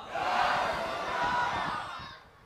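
A large crowd at an Islamic religious sermon gathering shouts a unified chanted response to the Naraye Takbir call, a loud swelling roar that fades after two seconds.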